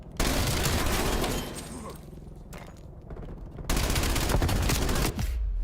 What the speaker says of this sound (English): That was a lot of bullets to get that kill